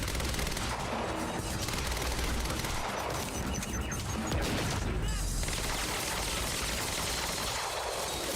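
Dense, relentless suppressing gunfire in the video game Quantum Break, automatic weapons rattling continuously with crashes and impacts mixed in, loud and unbroken throughout.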